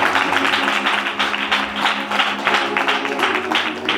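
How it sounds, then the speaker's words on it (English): Congregation clapping for the men who attended the church service, a dense, steady wash of applause filling the whole stretch at a fairly loud level, with faint voices mixed underneath. "Let's clap for our men."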